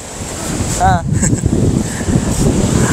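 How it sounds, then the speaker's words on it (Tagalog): Strong wind buffets the microphone on Bolasi Beach in San Fabian, Pangasinan at sunset, a loud continuous roar with surf-like rumble, and a voice briefly heard over it. "napaka lakas ng hangin"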